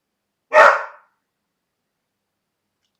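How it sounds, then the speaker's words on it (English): A single sharp dog bark rings out close and clear indoors, followed by near silence. "I'm sorry that Levi is barking."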